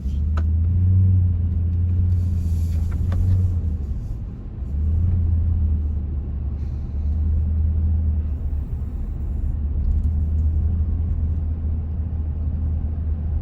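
A truck hauling a trailer licensed in Egypt rolls past with a steady, heavy low rumble that swells and holds close by for the whole stretch, with no talking over it.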